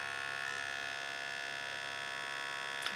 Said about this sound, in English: That's the optical drive. For some reason it makes that grinding noise when it first starts up